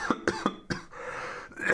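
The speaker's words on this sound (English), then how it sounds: "Sorry, I still have a cough." A person coughs four times in quick succession, close and sharp, during a debate, followed by a short breathy pause and a faint throat sound.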